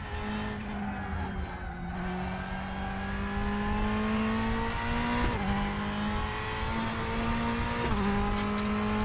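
Steady engine drone of a race car lapping a circuit in Assetto Corsa Competizione, holding a high note with gradual rises and a couple of quick gear-change dips, loud and continuous with no talk over it.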